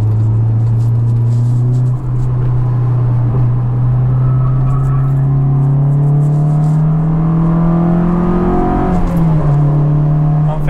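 A stock, naturally aspirated Honda S2000 AP1 engine revs hard and loud from inside the cabin, its pitch climbing steadily through the gears as VTEC kicks in, with a brief dip between.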